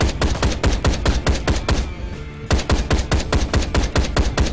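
SMG gunfire in the video game Ride To Hell Retribution, loud rapid bursts of close automatic shots with one brief pause partway through, no talking.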